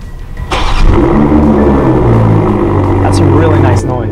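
BMW 440i M Sport exhaust revving hard, a loud steady engine note that swells after a brief quieter start and holds near, with talk running over it.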